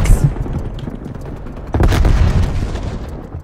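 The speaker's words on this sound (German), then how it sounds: "Granate geht raus." Grenade blast in Call of Duty Black Ops Cold War multiplayer, a loud close boom with a rumbling tail, following a brief sharp burst at the start.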